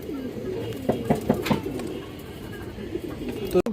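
Silver pigeons coo close by in repeated low, throaty calls, with someone talking over them throughout.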